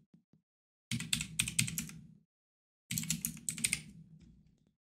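Two bursts of rapid keystrokes on a computer keyboard as registration details are entered, each lasting about a second and a half with a short silent gap between, close and clear with no talking.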